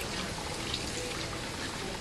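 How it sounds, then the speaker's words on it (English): Running water rinsing hands at a sink during a hand-hygiene routine, a steady close broadband rush with no breaks. "Rinse hands under running water"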